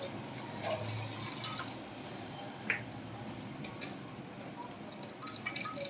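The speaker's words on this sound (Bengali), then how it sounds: "মূলাগুলোকে এইভাবে কষলিয়ে এইভাবে পানিটা জড়ে নিতে হবে।" Water drips and trickles as salted white radish is squeezed by hand in a kitchen, soft close wet patters and a few sharper drops over a quiet background.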